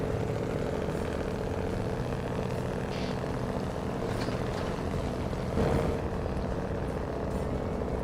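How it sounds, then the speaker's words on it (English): A low, steady truck engine idle in the video game SnowRunner rumbles continuously with a slight rise midway, heavy and droning without any voices. "I do love the way this truck sounds."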